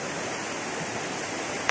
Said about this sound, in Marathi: फक्त आणि फक्त पाण्याचा आवाज पाहू शकता आपण